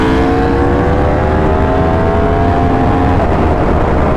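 Yamaha R1 sport motorcycle with a flashed ECU, engine roaring loud and close as it accelerates on a street ride, harmonics climbing steadily through the gear with heavy wind rumble underneath and no talk.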